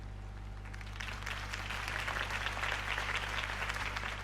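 Crowd applause after a campaign speech for Harvey Dent in a Batman game swells in about a second and continues as steady, moderately loud clapping over a low electrical hum.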